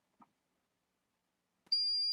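A GPS unit in farm machinery, working in the dark near a header and tractor, gives a sustained high-pitched electronic beep that starts abruptly near the end after near silence and a couple of faint knocks.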